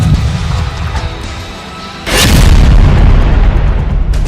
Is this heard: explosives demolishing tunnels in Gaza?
yes